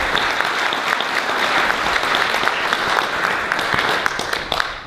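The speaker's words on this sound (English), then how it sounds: "could you give a round of applause?" A crowd claps steadily at a film premiere in Kiltyclogher, giving dense, even applause for several seconds that fades slightly toward the end.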